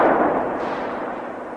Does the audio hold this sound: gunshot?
yes